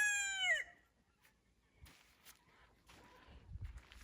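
Chickens in a backyard garden on a cold morning, a rooster-like crowing call at the start followed by faint scattered clucks and shuffling, quiet and close.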